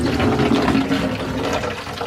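Sink water drains steadily into a gray water tank beneath a cargo trailer camper build, a loud, continuous gurgling rush of water running through the plumbing, close by with no talking.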